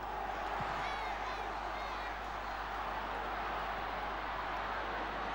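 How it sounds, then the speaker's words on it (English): Crowd at a 1980 All-Ireland Gaelic football semi-final between Kerry and Offaly, a broad steady roar filling the stadium without letup, with a few faint whistles rising above it. "And listen to the crowd."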